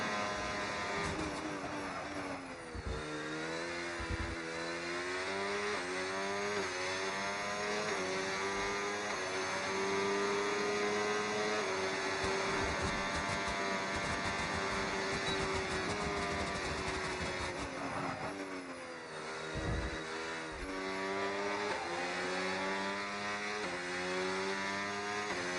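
Onboard F1 26 racing-game car engine lapping the Madrid circuit in a PS F4 league round: a continuous high, revving whine that climbs and drops through gear changes, loud and steady throughout with no voices.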